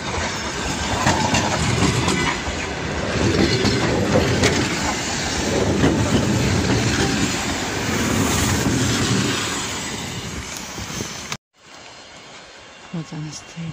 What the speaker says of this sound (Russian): Вот она стоит, наша электричка.